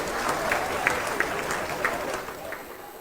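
A round of applause from an audience at a Ghanaian televised talk show, fairly faint and steady with a few sharper claps standing out over about three seconds.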